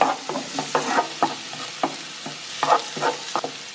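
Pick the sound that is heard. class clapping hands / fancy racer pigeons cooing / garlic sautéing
garlic sautéing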